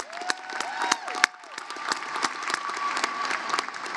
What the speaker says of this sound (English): let's give our co-valedictorian another round of applause